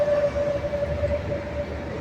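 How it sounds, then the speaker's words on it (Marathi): A century-old elevated metro train on Chicago's raised tracks passes by, giving a steady low rumble with a sustained whining tone that runs through the whole stretch, with no voices. "ही जी मेट्रो आहे ती 100 वर्षापूर्वीची."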